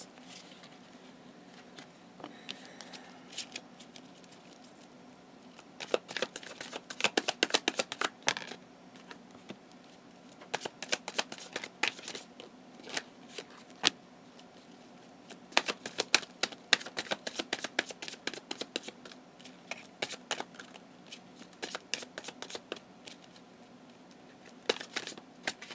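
Chakra Wisdom Oracle cards being shuffled by hand: bursts of soft, quick papery riffling and patter come in irregular clusters over a quiet background. It is close and clear, with no talking.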